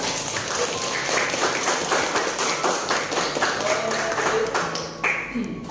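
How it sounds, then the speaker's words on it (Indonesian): A class of students applauds together at the end of a lesson, brisk steady clapping that carries on for several seconds with a few faint tones and taps mixed in. "Aplaus untuk kalian semuanya"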